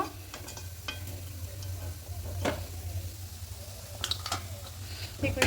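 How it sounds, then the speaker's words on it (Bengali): Thekua dough pieces fry in oil, giving a steady low sizzle with occasional sharp crackles and clicks from stirring, heard close with no talk. "এগুলো ঠিক ওরকম উল্টো পাল্টা করে ভেজে নেব"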